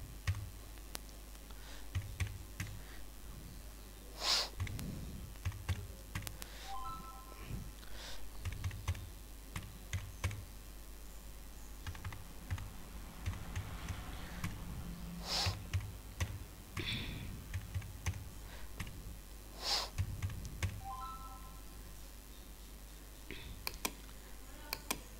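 Fingers tap a computer keyboard in quick, uneven bursts while entering salary figures into an Excel spreadsheet, the clicks soft and close with short pauses between runs of keystrokes.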